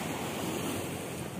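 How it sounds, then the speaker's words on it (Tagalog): Ocean waves wash against a seawall with a steady, broad roar of surf, blended with wind noise on the microphone and no clear talk. "Yung alon."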